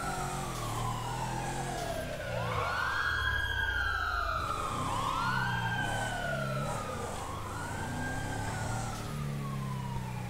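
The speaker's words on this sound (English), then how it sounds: "Lots of sirens going on there." Multiple emergency sirens in GTA sweep up and down in overlapping wails, cycling repeatedly over a rumble of engines and traffic, at a middling distance.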